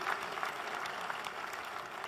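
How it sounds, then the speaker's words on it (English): Steady applause from a crowd, dense clapping filling the whole stretch at an even level without pause. "a big round of applause for the successful people sitting here"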